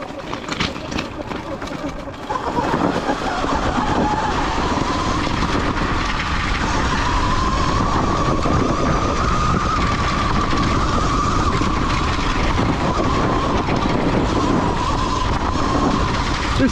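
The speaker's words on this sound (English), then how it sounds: "This thing just rips up in the snow, no problem." Sur Ron X electric dirt bike tearing through snow, a loud steady whine with churning, scraping roar that swells after a brief start and holds close and continuous throughout.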